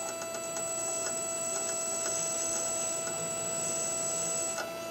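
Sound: brushed motor spinning in reverse via converted ESC

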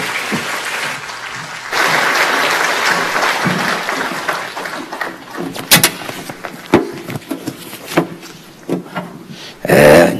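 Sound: audience applause welcoming a pastor

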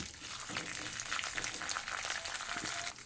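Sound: toor dal and dried red chillies frying in oil

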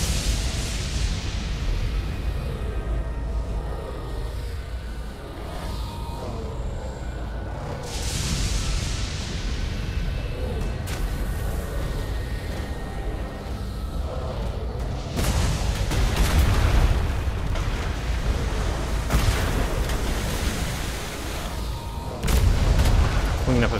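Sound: ship cannons firing on auto fire in Sailing the Atlas game

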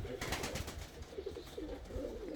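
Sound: pigeon cooing

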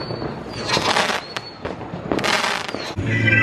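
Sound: fireworks exploding outdoors

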